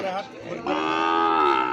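Cattle at a Monday livestock market where Sahiwal bull calves are sold, giving a loud, drawn-out moo close to the microphone after a brief lower call.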